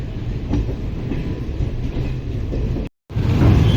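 Mysuru to Belagavi Express (train 17301) running near Hubli–Dharwad: steady rail rumble with clickety-clack of wheels over joints, heard from inside, with a brief dropout before the noise returns louder.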